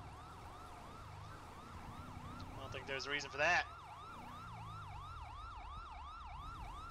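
A police car siren in GTA V with the LSPDFR mod wails in a steady rising and falling cycle throughout, a brief burst of horn-like tones in the middle, and someone speaks briefly over it.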